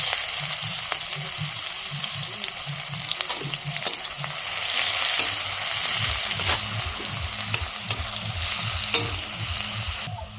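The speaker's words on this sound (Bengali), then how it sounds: "তেলটা গরম হয়ে গেছে, ফোড়নে দিয়ে দেবো আমি পেঁয়াজের কুচিগুলো দিয়ে দেবো।" Chopped onions frying in hot oil with seasoning for a fish curry with drumsticks and pointed gourd, producing a loud continuous close sizzle with rhythmic stirring scrapes.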